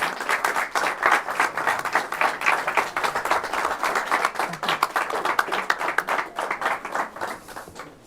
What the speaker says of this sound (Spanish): Un aplaudiment, Maribel, a sus 88 anys.